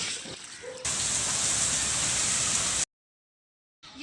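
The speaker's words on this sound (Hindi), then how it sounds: "बारिश भी हो रही है" Heavy rain in a village pours as a dense, steady hiss for a couple of seconds, then cuts to silence before resuming faintly at the end.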